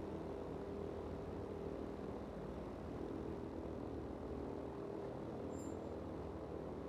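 Propeller aircraft engine in the flight game Warplanes, a steady low droning hum with a constant tonal buzz held throughout, fairly quiet and uninterrupted, with one brief faint high chirp near the end.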